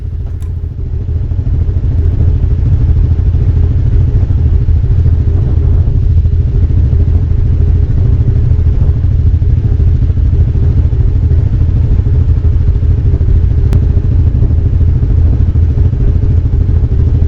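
An off-road recovery vehicle backs up across the sand at Dumont Dunes, its engine droning loud and steady with a rattling, clattering undertone the whole way.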